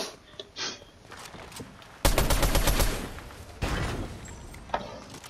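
Video game gunfire crackles in a dense, loud burst of rapid shots, then a second shorter volley follows after a brief pause, with scattered thuds and quieter game sounds between.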